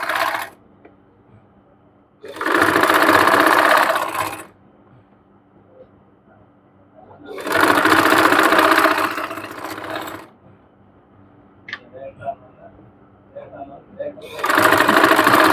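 A sewing machine stitches a side pocket onto a kurti in three loud close bursts of rapid whirring, separated by quieter pauses with handling clicks and faint rustles.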